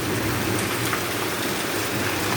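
Heavy rain pours down in a loud, dense, unbroken hiss that fills the whole moment, with no voices over it.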